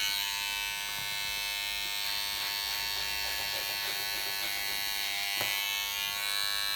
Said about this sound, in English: take the clippers down the gentleman's neck, reverse the clippers around and work up